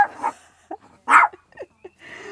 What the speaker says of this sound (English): Ooh, my dog's gonna bark. There's 3 dogs walking past.